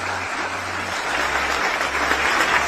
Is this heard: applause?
yes